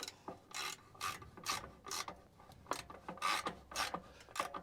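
Ratchet wrench tightening a car's drain plug during an overdue fluid change, giving repeated short bursts of rapid clicking in quick strokes, close and fairly faint, with light metallic rubbing between strokes and no talk.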